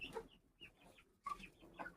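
Chickens on a farm, including a grey hen, cluck in short bursts, several soft calls spread across two seconds with quieter gaps between them, fairly faint and with no talking.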